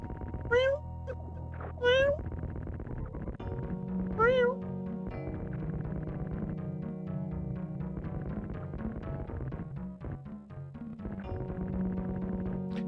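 A cat meows several times over steady background game music, with three short calls clustered near the start and another a few seconds later, fairly close and clear.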